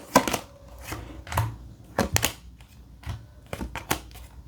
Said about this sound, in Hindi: फिर भी यहाँ से मैं कुछ कार्ड्स निकाल लेती हूँ और जान लेती हूँ।